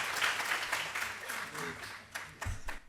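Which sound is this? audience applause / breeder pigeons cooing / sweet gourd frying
audience applause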